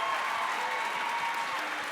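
Audience applause at a Sunday-evening round-table session of the Ze Rencontre 2023 event: a dense, steady burst of clapping that stays level throughout, with no talking over it.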